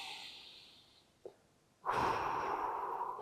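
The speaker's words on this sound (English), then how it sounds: "Breathing in." During a qigong exercise, a person exhales with a soft, fading breath, gives a brief sharp sniff, then draws in a loud, close inhale through the nose and holds it steady.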